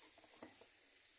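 Onions for egg rice fry in hot oil in a pan, giving a close, steady sizzle with a few soft stirring scrapes.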